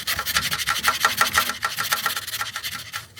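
A loose timing chain on a BMW N47 diesel engine rattles with a fast, rhythmic scraping clatter, close and fairly loud, pulsing steadily with no voices.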